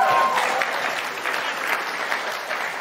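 A live audience claps steadily through a German comedy discussion show, a dense, even wash of applause with no one speaking over it.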